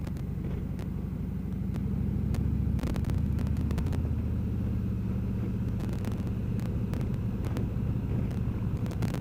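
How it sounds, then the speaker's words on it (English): On a road ride, a steady engine drone and wind rumble run throughout while an oncoming vehicle passes with brief broadband rushes, close and moderately loud, with no talking. "Oncoming vehicle."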